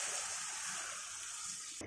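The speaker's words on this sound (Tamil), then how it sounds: "நம்ம ஜார் கழுவுன மசாலா அரைச்ச ஜார்லேயே இந்த தண்ணி ஊற்றிக்கிறேன்." A short rush of water poured into a cooking pot, a steady, close hissing gush that cuts off abruptly at the end.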